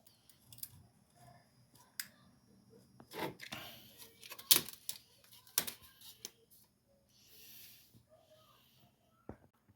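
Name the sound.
utility knife cutting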